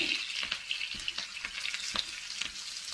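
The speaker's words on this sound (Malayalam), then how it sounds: "അത് നമുക്കൊന്ന് ചെറുതായിട്ടൊന്ന് ഫ്രൈ ചെയ്തെടുക്കാം" Onion petals fry lightly in a pan for chilli paneer, giving a soft continuous sizzle broken by repeated stirring scrapes and crackles, close and with no talk.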